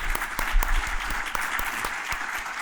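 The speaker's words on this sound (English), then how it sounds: "So let's give our speakers a round of applause" An audience at a research talk applauds its panel of speakers, with scattered individual claps ringing out crisply and fairly close over a light, steady bed of clapping.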